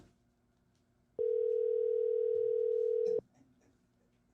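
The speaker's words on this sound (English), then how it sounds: "waiting for the rock star to get the person on the phone. We have no one answering, Mr. Gibson" On a radio morning show call, a single steady electronic ringback tone sounds for about two seconds and stops, with no one answering, surrounded by quiet line hiss.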